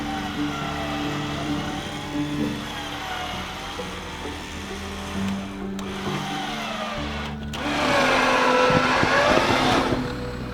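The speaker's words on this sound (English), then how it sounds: "we made it crawling up this hill so far without sliding off the edge of a cliff. Crawling super slow, first gear, crawl control" A Jeep Gladiator crawling slowly up a steep hill in first gear with crawl control, its engine a steady low drone with whining tones, rising to a louder rough surge near the end.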